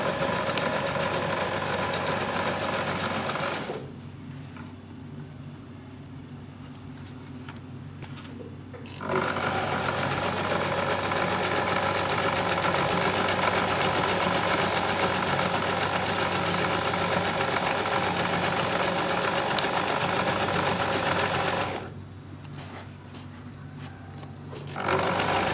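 A sewing machine running along the edges of a bag makes a continuous mechanical motor hum, stopping briefly twice before starting up again, close and without speech.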